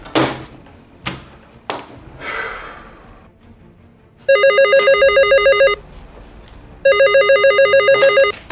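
An electronic telephone rings loudly in two separate bursts of rapid warbling tones, with a few thumps and rustling movement beforehand.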